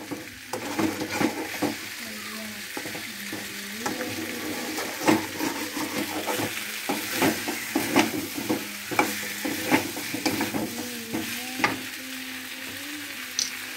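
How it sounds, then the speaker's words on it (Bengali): Chicken chaat masala sautéing in a pan, with a steady sizzle and repeated scraping stirs of the spatula throughout, close and moderately loud. "আমি কি সুন্দর কষিয়ে নিচ্ছি"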